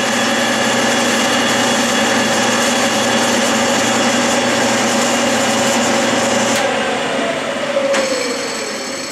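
A Logan metal lathe turns aluminum under hand feed, running with a steady mechanical whine and hum that shifts and winds down near the end, with no talking.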